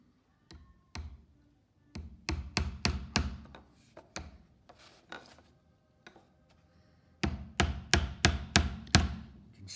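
Nails being hammered into wood on a workbench while building a rebate butt joint, sharp tap strikes in quick bursts of five or six blows with pauses between, close and fairly loud.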